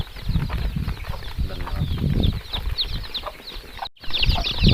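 Two-to-three-day-old Kadaknath and country chicken chicks crowded together at a village farm, giving a continuous chorus of high, overlapping peeps and chirps close by, with a brief break near the end.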